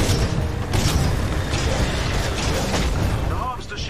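Heavy nuke explosions in the Titanfall 2 video game: several booming bursts roll through a dense, loud wash of game noise, one after another.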